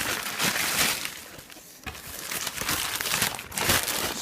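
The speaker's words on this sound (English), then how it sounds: "stuff paper down the other side" Packing paper crumpled and crinkled by hand as it is stuffed into a shipping box of comic books: close, continuous rustling and crunching in uneven bursts, with a brief lull midway and no talk.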